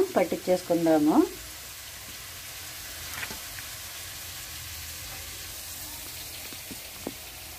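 Country chicken pieces sizzling in a pan with browned onions, a steady soft crackle and hiss after a brief burst of voice at the start.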